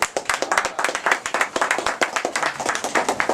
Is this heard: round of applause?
yes